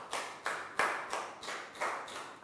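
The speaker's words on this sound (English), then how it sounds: "Big round of applause for Bangpon." A Year 3 classroom gives a few slow, evenly spaced claps, about seven distinct hand claps in a steady rhythm, fairly soft and close.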